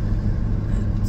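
A 1980-86 Ford bullnose truck's 460 big-block gasoline engine rumbles loudly and close while driving, a deep steady drone.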